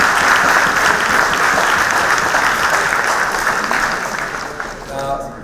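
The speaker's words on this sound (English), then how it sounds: "A round of applause to all of you." Audience at a university opening ceremony applauding the organizing committee, loud continuous clapping that tapers off near the end as a voice begins.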